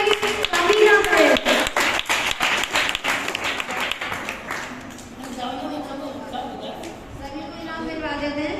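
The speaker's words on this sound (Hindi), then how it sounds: "ताली बजाने में कोई कमी ना करे।" Audience claps for prize-winning students at an award announcement, sharp hand claps loudest early then thinning out as a voice speaks over the tail.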